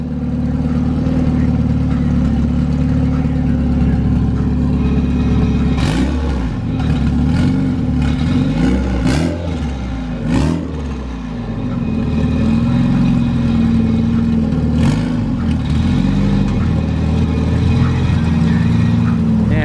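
Turbocharged Honda EJ1 engine with a damaged transmission idles loudly and steadily, with several sharp revs and clattering bursts around the middle, then settles back into a rough, continuous drone.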